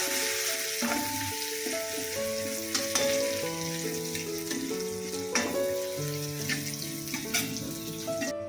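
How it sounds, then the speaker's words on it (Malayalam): Curry leaves and crushed shallots frying in hot oil while being stirred, a continuous crackling sizzle with scraping, set under steady background music. "ഇനി കറിവേപ്പില ഇട്ട് വാറ്റൻപടവ് നമ്മൾ ചതച്ചെടുത്തതാണിത് അതിട്ട് പച്ചമണം പോകുന്നവരെ ഇളക്കുക"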